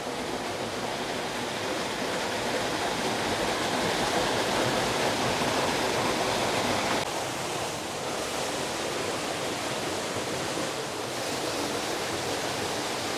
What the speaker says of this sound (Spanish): Seguimos escuchando la agüita por este barranco.